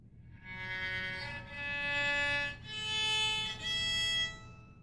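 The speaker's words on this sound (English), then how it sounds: "this is with the volume all the way down with no mute." Quiet bowed notes from a Cecillio electric violin with its volume turned all the way down and no mute, sounding as a thin, soft melodic line of sustained tones with brief dips between phrases and no talking.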